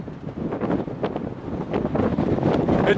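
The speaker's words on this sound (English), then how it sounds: "The wind's starting to pick up." Gusty wind buffets the microphone at a campground rest stop in Rock Springs, Wyoming, a loud rumbling roar that swells and builds toward the end, with no talking.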